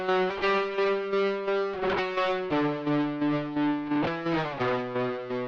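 Heavily distorted electric guitars play sustained, thick power chords in a produced music mix, with a steady pulsing rhythm and occasional chord changes, loud and dense with no voices.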